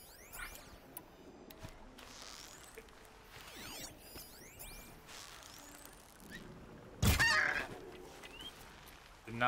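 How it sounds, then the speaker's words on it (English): A goose honks in the video game Horizon Zero Dawn, a brief loud burst rising out of quiet wilderness ambience with faint bird calls and mechanical chirps around it. "I heard that goose and knew it was nearby"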